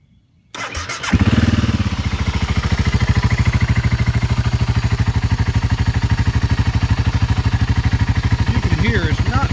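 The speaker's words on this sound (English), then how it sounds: "I'm going to crank the bike up, let you listen to it." A BMW G650 Xcountry motorcycle with a modified exhaust cranks and starts, then settles into a loud, steady, deep-toned idle with a fast, even thumping pulse, close to the recorder.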